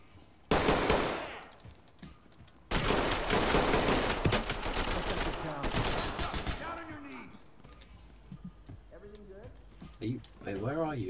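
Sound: gunfire in the video game Ready or Not

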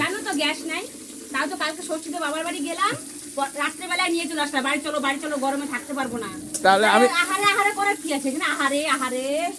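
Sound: food sizzling while cooking

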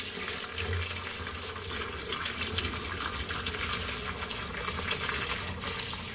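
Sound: rinsing cooked noodles in a strainer with cold water

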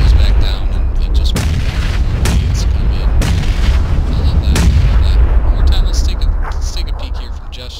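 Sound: grenade explosions in a video game

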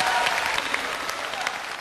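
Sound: studio audience applause welcoming the singer's mother

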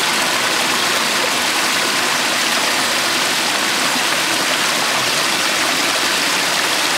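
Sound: water flowing through a micro-hydro channel

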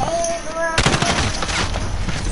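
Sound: gunfire in video game Call of Duty

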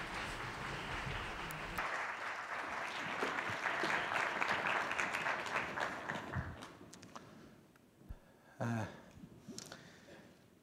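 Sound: audience applause for Chey Tae-won

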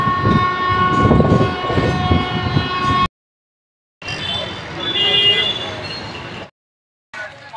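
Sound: local train with horn

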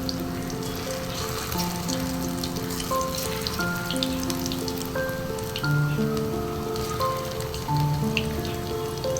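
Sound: soybean pakora frying in oil

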